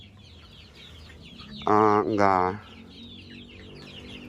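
Kampung chickens in a backyard coop holding about a hundred birds let out two loud, close bursts of clucking. Faint background noise and a brief spoken word come before and after.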